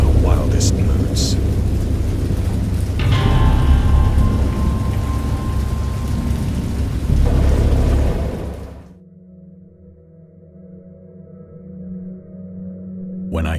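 Heavy rain and rolling thunder from a storm in the horror game Dagon, a loud steady downpour with low rumbles that cuts off abruptly near the end, leaving a faint low drone.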